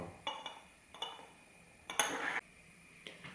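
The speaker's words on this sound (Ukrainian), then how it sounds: "І закриваємо гумовим корком." A rubber stopper pressed into a glass test tube in a lab, giving a few short, close glassy clinks and scrapes spaced apart, with one longer rubbing squeak in the middle.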